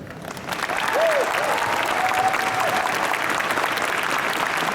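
A convention audience at the Otakon 2017 opening ceremonies applauds in a broad, sustained round of clapping that swells after a soft start and holds steady, with brief faint tones and murmurs underneath.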